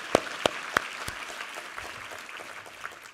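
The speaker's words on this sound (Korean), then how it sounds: "우리 하나님께 감사와 영광의 박수 올려드리겠습니다" A church congregation at a New Year's Day Sunday worship service gives a brief round of applause, a few sharp claps standing out before settling into faint, distant, sustained clapping.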